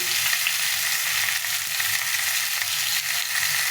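Raw green mango pieces fry with salt and turmeric in a pan, making a continuous close sizzle with light stirring and no voices.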